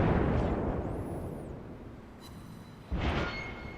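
Cruiser main batteries boom in World of Warships, a German Konigsberg lobbing shells at an enemy ship: a heavy rumbling roar fades out, then a second sharp blast lands near the end.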